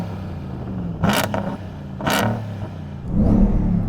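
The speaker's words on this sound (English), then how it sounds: "let us hear that beautiful supercharged V8" A Hennessey-tuned supercharged V8 is revved at standstill, with two sharp throttle blips sending the engine rasping up before it settles back to a rumbling idle, then a deeper surge near the end, close and loud.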